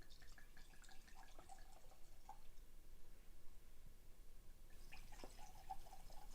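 A drink drips onto a kitchen counter in a few faint, scattered drops over low room noise, with no voices.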